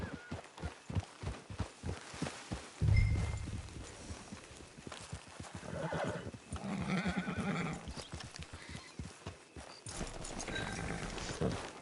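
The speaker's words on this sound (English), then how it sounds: "It's your horse." A horse in Red Dead Redemption 2 whinnies once amid a run of steady hoof clip-clops close by, with a low snort and game ambience continuing underneath.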